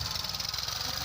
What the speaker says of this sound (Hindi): ये देखिए, ये ट्रैक्टर